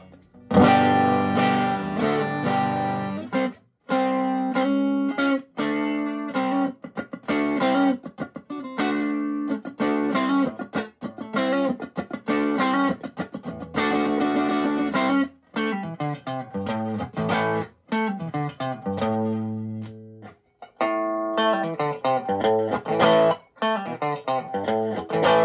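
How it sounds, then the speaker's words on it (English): Overdriven electric guitar through a homemade 5F2A Princeton-style tube amp, playing chords and riffs with a gritty, slightly broken-up tone, loud and continuous with brief pauses between phrases. "So we'll start to hear a little bit of breakup there."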